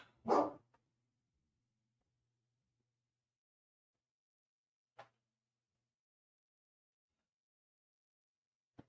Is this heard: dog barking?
yes